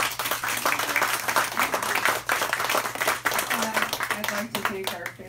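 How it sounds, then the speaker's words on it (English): Modest applause from a small audience closing an evening author conversation event, scattered claps with a steady low hum underneath and some murmuring voices mixed in. "Let's give our authors a round of applause."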